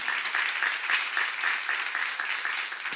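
A church seminar audience bursts into dense, continuous applause, many hands clapping together at an even, sustained level.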